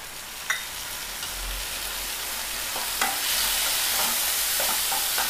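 Onions and green chillies with a little turmeric sautéing in a pan, a steady close sizzle with occasional stirring scrapes and clicks throughout.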